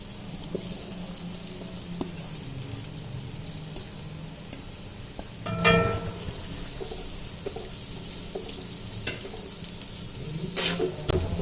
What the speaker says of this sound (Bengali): পেঁয়াজটা আমরা হচ্ছে কড়াইতে দিয়ে দেব।